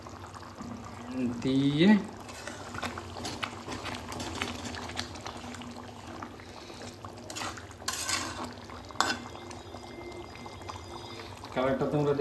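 Lukewarm water poured into a pan of curd mutton curry, a short splashing pour near the start over steady kitchen clatter, with a voice speaking briefly.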